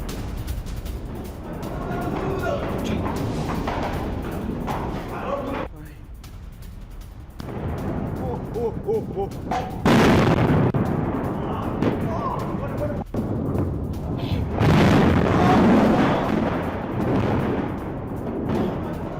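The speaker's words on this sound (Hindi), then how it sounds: "तेल अवीव पर बैलिस्टिक मिसाइल से हमला हुआ है।" Explosions from a ballistic missile attack on Tel Aviv, loud heavy booms and roaring bursts from a distance, several hitting in succession, partly under excited voices and broadcast talk.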